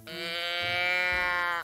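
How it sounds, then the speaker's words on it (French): A single drawn-out goat bleat sounds as a call lure in a hunting video game, a nasal, strained cry about a second and a half long, clear and close. "Il préfère peut-être le bruit de la chèvre."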